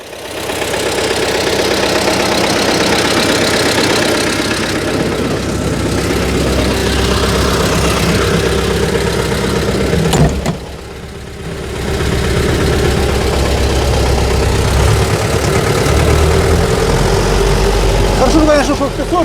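A T-40AM tractor's engine runs steadily under load while ploughing with a PLN 3-35 plough, a loud, continuous diesel drone with a knocking undertone and a short dip midway.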